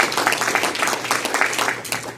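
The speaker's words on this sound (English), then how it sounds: "Everybody give Marcus a round of applause." Audience applause at a live improv comedy show, a moderate, steady patter of many hands clapping for a short stretch, heard from within the room.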